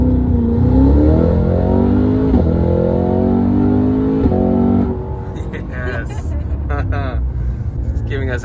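A Cadillac CT5-V Blackwing engine revs hard from inside the car, its loud throaty drone climbing and shifting pitch, then breaking into bubbly crackling exhaust pops. Voices talk over the engine noise.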